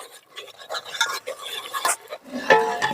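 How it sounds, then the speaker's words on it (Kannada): Fenugreek leaves and onions stirred in a pan for biryani, with scraping and clinking of a utensil against metal, uneven bursts of activity and a light sizzle, a faint voice in the background. "ಈಗ ಅದು ಚೆನ್ನಾಗಿ ಫ್ರೈ ಆಗಲಿ."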